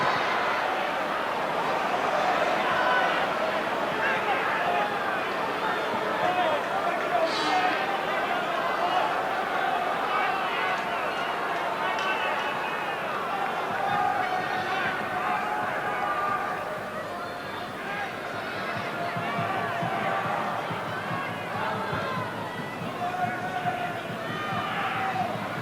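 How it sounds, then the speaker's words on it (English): Large football crowd at the 1995 Scottish Cup Final between Camelon and Whitburn, a steady, dense roar of murmuring and shouting that swells and dips slightly throughout, with scattered calls rising out of the general din. "There's a good crowd here this afternoon."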